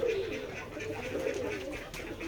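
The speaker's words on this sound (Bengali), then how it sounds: "আমাদের খামারে অনেক কবুতর আছে" Pigeons cooing on a poultry farm in a Bangladeshi village, a steady run of soft, low repeated coos heard up close and continuously, with no talk over them.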